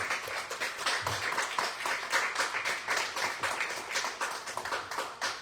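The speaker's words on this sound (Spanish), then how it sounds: "démosle un aplauso a" An audience at a talk on perspectives about the mind and diagnosis claps for speaker Laura Martínez, a steady patter of many hands, close and moderately loud, with no voices.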